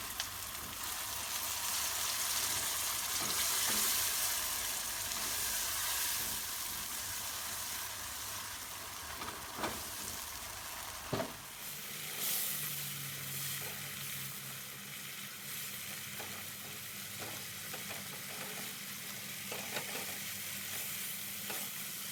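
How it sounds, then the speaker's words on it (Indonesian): Ground spice paste with candlenut and dried shrimp sizzles and fries in a pan, stirred steadily for the whole stretch; the sizzle runs loud and close at first, then settles lower and quieter after a sharp clatter partway through. "masukkan bumbu yang dihaluskan dan tumis sampai benar-benar matang"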